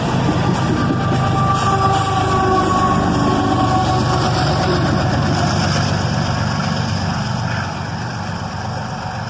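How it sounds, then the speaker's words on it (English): Union Pacific freight train pushed by two rear-end DPU locomotives rolling past, a loud, continuous rumble of engines and rail cars with faint tonal whines riding above, steady throughout and dropping slightly near the end. "Not one, but two rear-end DPUs pushing the train."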